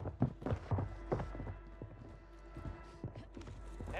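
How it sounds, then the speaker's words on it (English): Enemy footsteps in Warzone 3 thud in quick, uneven steps near the listener, loudest early and then tapering into lighter scattered taps over a low background hum. "This guy's footsteps are so loud."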